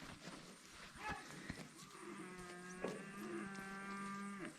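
Dairy cows in an open pasture give long, drawn-out moos one after another, close and fairly loud, with no talking.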